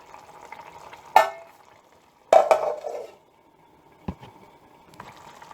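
Lamb liver masala being stirred in a pan, giving a few separate scrapes and clinks of a spoon against metal, one at about one second and a cluster midway, over a quiet low simmer.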